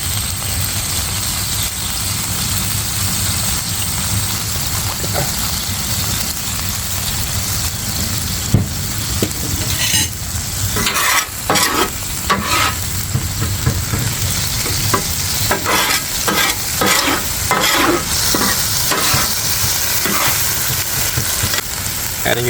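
Thai beef basil stir-fry with fish sauce, oyster sauce, sugar and peppers sizzling loudly in a hot pan, a constant frying hiss under quick clattering scrapes of a utensil that grow busier midway, with no speech.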